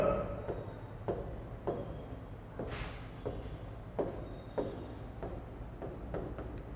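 Chalk or a marker moves across a board during a classroom lesson, giving a string of short, quiet scratching strokes in an irregular rhythm at close range, with no talk over them.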